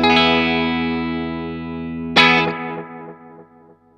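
Electric guitar run through an Analogman ARDX20 delay pedal, set as a dotted-eighth delay thickener: a sustained chord rings out and fades, then a second strummed chord repeats in quick echoes that decay away, with no talking.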